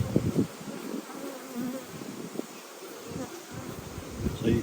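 Honeybees buzzing steadily up close in a continuous droning hum, with swelling and fading wingbeats as insects move about near the hive.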